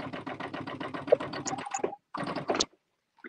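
A sewing machine bastes layers of fabric together in rapid rhythmic stitching bursts, close up. Short stops and clicks come between runs, followed by a brief second burst and then quiet.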